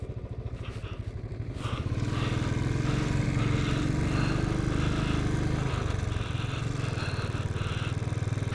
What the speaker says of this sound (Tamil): மணலுக்குள்ளே தான் போயிட்டுருக்கு வண்டி.